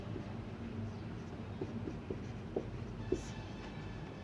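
Chalk or marker writing on a board during a physics class, faint scratchy strokes with a few short taps over a steady low background rumble, no talk.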